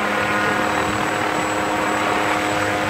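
An agricultural crop-spraying drone used on rice and fruit trees flies with a loud, steady rotor drone and whine that fills the whole stretch with no pauses.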